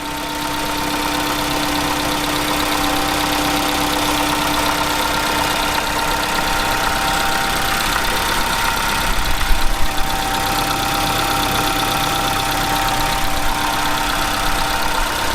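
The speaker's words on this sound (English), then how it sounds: "I'll just show you the glorious SR20 DET with the top mount intercooler." A Nissan Pulsar GTI-R's turbocharged SR20DET engine with a top-mount intercooler idling close by, a steady even hum with a faint whine and a slight rise in rumble partway through.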